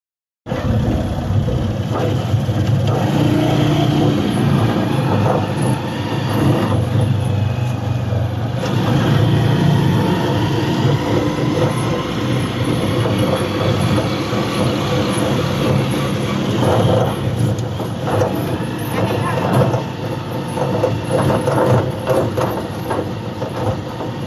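A motorcycle engine drones steadily throughout a ride, a loud, constant low rumble mixed with wind and road noise, with no pauses.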